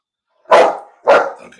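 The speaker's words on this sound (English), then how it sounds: "My dog is barking." A dog barks twice in quick succession, close and loud, each sharp bark trailing off, with no voices around it.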